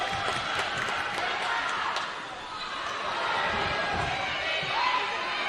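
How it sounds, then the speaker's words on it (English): A crowd on its feet cheering at a women's volleyball championship match in Davis Fieldhouse, a broad steady roar of voices with a commentator talking over it. "Crowd on their feet here in Davis Fieldhouse."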